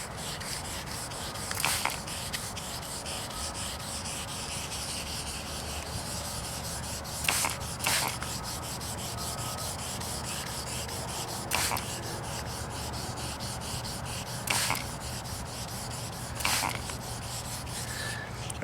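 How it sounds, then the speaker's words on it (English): Steady abrasive rubbing of sandpaper wet sanding Rust-Oleum paint, continuous strokes with a few brief louder scrapes, close and without speech. "Then we'll come in and just lightly start sanding"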